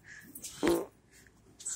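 A short, low fart from a woman during a family fishing outing, a single soft burst amid quiet background noise.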